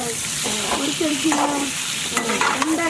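Sizzling and frying from boiled, peeled eggs scored and fried in a pan for egg biryani, cooked outdoors on a balcony, with steady crackle and intermittent stirring scrapes of a utensil against the pan, close and moderately loud with no talking.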